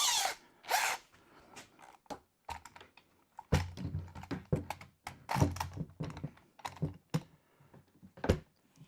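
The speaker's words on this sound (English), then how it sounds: "It went click. That was the dominoes saying, yeah, we're lined up now." Festool Domino joints on a wooden lathe cart click into place: a string of sharp, close knocks and taps in uneven bursts, ending with a distinct thunk.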